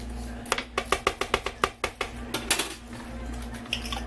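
Minced garlic being stirred into pork in a pot, a quick series of about a dozen clinking utensil scrapes and taps against the pot, fairly close, with a softer stretch of rubbing afterward.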